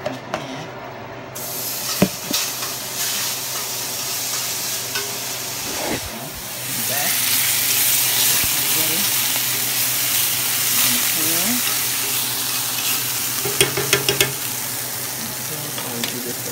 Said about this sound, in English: Put some butter in the pan.